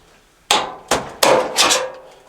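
Sharp metallic taps from a screwdriver striking a steel tab on the front panel of a Samsung dryer, four distinct close hits in an uneven rhythm, each with a short ringing decay.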